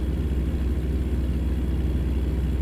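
A truck engine in American Truck Simulator gives a steady, low, droning rumble that holds an even pitch throughout without climbing.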